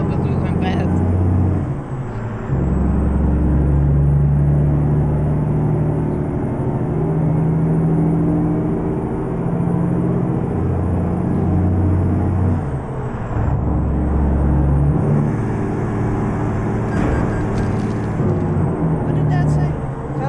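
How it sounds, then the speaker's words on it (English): A heavy truck engine in American Truck Simulator, running with realistic mods, drones loudly and steadily throughout, its deep rumble shifting pitch slightly as it runs. "That's how loud my truck is."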